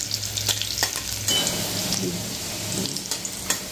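Vegetables frying in hot oil in a home kitchen, a steady close sizzle with repeated scraping and stirring clatters throughout.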